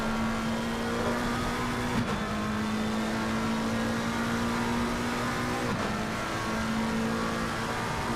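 Race car engine heard from the onboard view at Brands Hatch in a racing video game, a steady loud drone held at one pitch with slight dips around two and six seconds, no voices.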